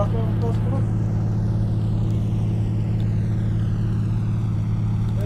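Grumman G-21 Goose twin-propeller amphibian in Flight Simulator X cruising at top speed, around 210 mph; a steady, loud engine drone with low propeller hum holds evenly throughout without a break.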